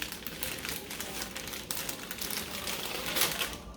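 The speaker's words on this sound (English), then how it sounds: "I like to break my noodles in half." Dry, brittle snapping and crinkling of dry fettuccine noodles being broken in half, a steady run of small crackles over about four seconds, close up with no talking.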